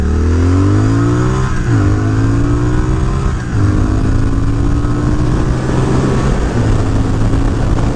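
A Triumph Speed Twin motorcycle accelerates hard and close, its engine note climbing through the gears in rising sweeps with brief drops at each shift, loud and steady with no talk over it.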